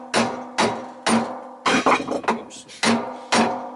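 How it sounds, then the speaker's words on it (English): A copper-headed hammer taps a vacuum cleaner motor armature clamped in a vise during a strip-down, sharp metallic knocks in an irregular series with a clattering jumble midway, close and loud; one brief spoken word. "I am using copper headed hammers, so these will not damage the armature."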